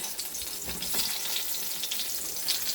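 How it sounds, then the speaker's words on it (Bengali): Brinjal slices fry in hot oil, making a loud, close, continuous sizzle with bursts of crackle and spatter across the short stretch. "এদিকে তেল দিয়েছি, বেগুনটা ভেজে নিই।"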